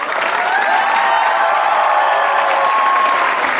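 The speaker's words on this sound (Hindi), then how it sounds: "सर आपने इस बात में ये करके तालियां बजाई" A studio audience on a Pakistani comedy talk show gives a loud, dense burst of applause, many hands clapping together at an even level for a few seconds.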